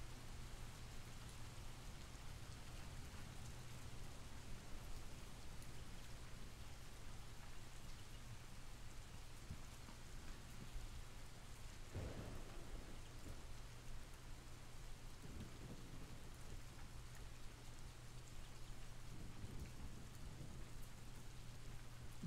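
Steady rain pours without a break, with a low roll of thunder rising briefly partway through and a faint constant hum underneath; no one speaks.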